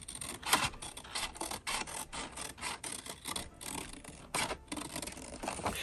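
Scissors snip around a fabric circle while a folded-flower placemat is made, a steady run of close, dry rasping cuts with short pauses between strokes, no talking.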